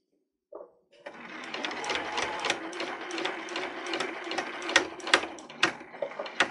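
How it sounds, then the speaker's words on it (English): A sewing machine runs continuously as it stitches fabric toward the edge, a steady loud rattling whir with rhythmic needle clatter and a few sharper clicks, alone without talk after a short initial knock. "you're going to stitch all the way towards the very edge of the fabric and then back up a little bit"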